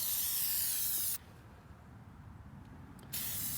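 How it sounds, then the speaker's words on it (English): Amsoil Mudslinger sprays onto a vehicle in a loud, close aerosol hiss lasting about a second, then a quieter pause, then the hiss starts again. "spray it again"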